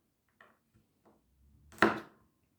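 A single sharp knife chop through garlic cloves on a cutting board, preceded by a few faint light taps; close and otherwise quiet.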